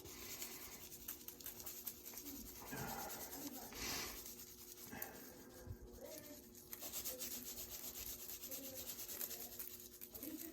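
Hands rubbing spice rub onto a wagyu brisket, soft scratchy rubbing strokes close by, faint and intermittent with quiet background noise.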